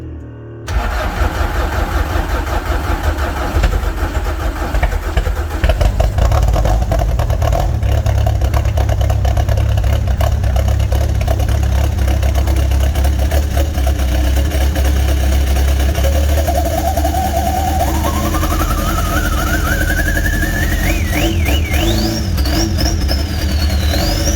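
An MK4 Volkswagen Jetta engine cranks and catches, then runs steadily up close and loud, settling into an idle with a rising whine toward the end; no one speaks.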